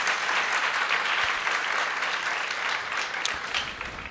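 Congregation at a Pentecost Sunday Mass breaks into sustained, dense applause, a steady wash of many hands clapping throughout at an even level, with no voices standing out.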